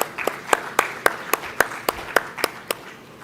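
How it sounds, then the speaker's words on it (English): Scattered claps from an audience at a company's 25th anniversary celebration, greeting a panel moderator: about a dozen crisp claps in an even, regular rhythm over a soft bed of lighter clapping, fairly close. "So big round of applause,"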